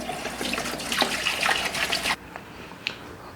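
Tap water poured from a jug into a tank gushes and splashes loudly for about two seconds, then stops abruptly, followed by a few faint drips and a small clunk.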